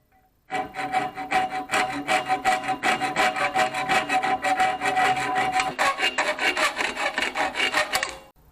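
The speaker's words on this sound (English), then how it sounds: "I'm going to cut out some plywood that I have." Plywood for a Craftsman workbench restoration is cut with a hand saw, giving loud, rhythmic rasping strokes, about three each second, that run steadily for around eight seconds and then stop.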